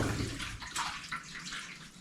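Water gushes steadily out of a GE washer that won't drain, pouring into a floor drain in a constant broadband rush that holds level for the whole stretch.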